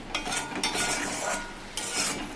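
A spoon stirs and scrapes paneer curry around a pan, oil hissing and sizzling continuously underneath, with a few louder scraping strokes against the pan sides; no talking.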